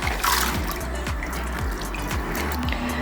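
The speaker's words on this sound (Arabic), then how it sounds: "وهلأ بطنجرة تانية بحط 4 كبايات من المي لأن أنا نقعت 3 كبايات من الرز" Water poured into a second cooking pot, four cups measured for soaked rice, splashing and gurgling steadily with a rhythmic bubbling pulse, close and moderately loud with no talk.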